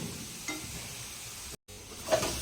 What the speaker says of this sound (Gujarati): પાછું આપણે તેને એકવાર મિક્સ કરી લઈશું. આ રીતે સરસ હલાવી